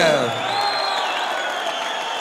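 Crowd applause and cheering at an ACB 37 MMA event greet a debuting fighter from Grozny in the red corner, a steady, dense roar with tonal whistles or announcer echo over it, continuing evenly throughout.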